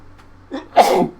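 A single sharp sneeze close by, with a short breathy intake just before the loud burst.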